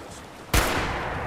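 Single sharp gunshot in the video game Quantum Man, one loud close crack with a short decaying tail, alone without talk.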